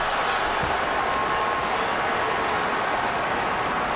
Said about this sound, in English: You heard the crowd reacting